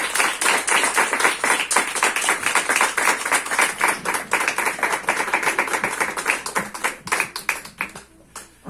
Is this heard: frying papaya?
no